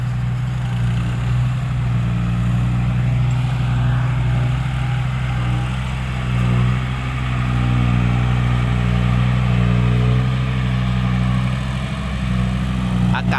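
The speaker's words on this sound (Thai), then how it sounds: "รถไถกำลังเคลียร์ทางอยู่" A tractor engine drones close by without a break, a heavy rumbling idle that holds its pitch throughout.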